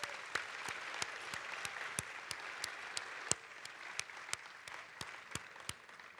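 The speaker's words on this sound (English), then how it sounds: "I definitely want to give you a big round of applause." Audience applause at a full show event, a steady wash of clapping with sharp individual claps standing out throughout, fairly distant and even in loudness.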